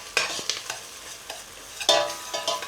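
Tomato and Urfa pepper paste stir-fried in a pan for an oxtail chickpea stew: soft sizzling with several sharp scraping stirs of a utensil against the pan, close and fairly quiet.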